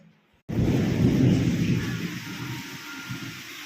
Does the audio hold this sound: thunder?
yes